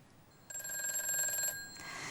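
A telephone rings in a trading-advice broadcast studio during a call-in consultation. A single trilling electronic ring lasts about a second over quiet room tone.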